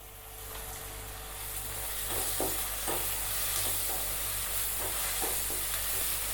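Ginger garlic paste with green chilli and mint is stirred into onions in a hot pan, a steady sizzle and hiss with scattered scraping strokes of a spoon against the pan, close and continuous.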